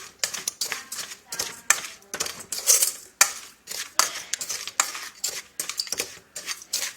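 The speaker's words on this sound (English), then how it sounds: "Keep stirring until it turns" Palm sugar mixture stirred in a pan for Lao-style bánh cuốn, a spoon scraping and clinking against the metal in steady repeated strokes, close and moderately loud, with no talk.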